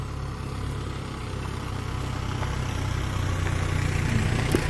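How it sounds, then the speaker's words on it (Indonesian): A car engine rumbles steadily on a roadside by a riverside cliff in Aceh, its low drone growing slightly louder as the vehicle draws near, with no talk. "Ada suara mobil, dia takut."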